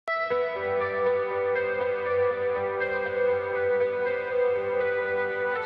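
An Odin III MIDI guitar played at very low velocity with no pick attack rings out as one smooth, sustained chord with a soft onset, fading slowly and alone.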